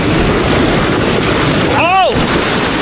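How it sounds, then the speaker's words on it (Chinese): Big ocean waves crash on a rocky shore where someone digs barnacles for fishing bait, a steady broadband surf roar with wind buffeting the microphone, and a brief voice exclaims near the end. "好大浪哦"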